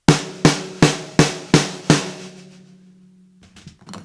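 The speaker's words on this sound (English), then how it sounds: "Are you tired of having your snare drum sound like this?" A badly tuned snare drum struck six times in an even rhythm, each hit boomy with a ringing low overtone, followed by a lingering hum and a few soft taps.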